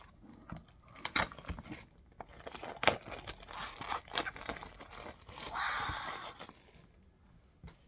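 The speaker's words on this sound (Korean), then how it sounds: "칼로 넣어서 비닐 완전 얇아" Thin plastic wrap is cut with a knife and crinkled off a GAN 13 speed cube box, giving close, quiet rustling, crackling and tearing with scattered sharp crinkles throughout.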